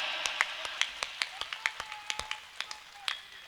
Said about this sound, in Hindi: पूरा सदन दोनों हाथ खड़े करके तिरंगे के सम्मान में तालियां बजाए।